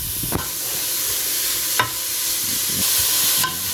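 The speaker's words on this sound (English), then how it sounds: "When you put the bacon down, you don't need to put an oil on it" Bacon sizzling in a dry pot with no oil as its fat begins to render for a seafood chowder, a steady broadband fry with a few sharp scraping stirs standing out.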